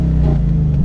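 A Jeep JK's engine revs up toward its rev cutoff near 3,000 RPM, a loud, close, rumbling roar held steady for a brief moment.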